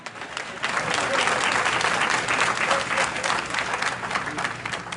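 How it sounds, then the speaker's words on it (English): A town hall audience in Washington DC bursts into sustained clapping that swells within the first second and holds steady and dense, a broad wash of many hands with faint voices mixed in. "clap for yourself now"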